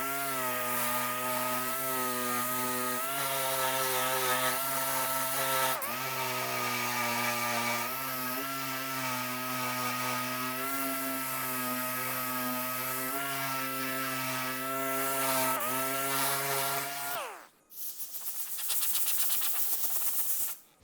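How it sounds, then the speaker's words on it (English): A dual-action sander fitted with 120-grit paper works around the outside edges of a car fender panel being prepped for body filler, giving a steady, loud droning whine for about seventeen seconds before it cuts off and a rougher noise follows. "Next, I'm going to use 120 grit on the DA and just go around the outside edges."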